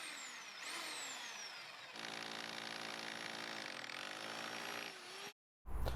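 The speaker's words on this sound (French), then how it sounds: "Vous reportez ces marquages à travers l'isolation et dans le mur avec votre marteau perforateur." A hammer drill bores through facade insulation into a wall, giving a loud rising whine that settles into a steady buzzing grind, then cuts off abruptly.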